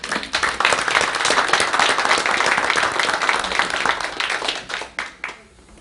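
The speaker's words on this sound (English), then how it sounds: "let's give it a round of applause" A crowd at a Madison County fiscal court meeting in Kentucky gives a round of applause, with thick, fairly loud overlapping clapping from many people that thins out and tapers into a few scattered claps at the end.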